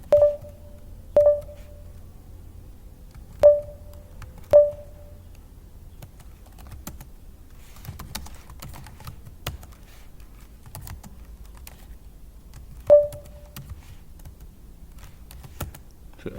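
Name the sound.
typing on a computer keyboard in an Ubuntu terminal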